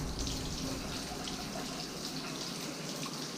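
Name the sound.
hot water running from a kitchen tap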